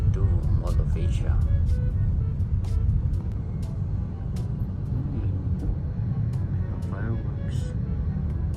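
Riding in a car through traffic on the way to Mall of Asia, with a constant low road rumble and engine drone, scattered light clicks, and people talking over it.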